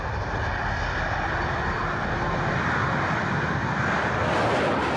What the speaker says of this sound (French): Le Mirage 2000, tel que vous le voyez ici, un avion d'ancienne génération par rapport au Rafale.